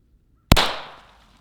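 A Glock 23 .40 caliber pistol is fired into a pillow: a single sharp, loud report breaks the silence and then fades over about half a second.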